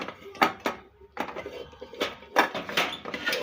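A metal cooking pot is picked up and knocked about in a home kitchen, making a string of short, close clinks and clanks with quiet gaps between.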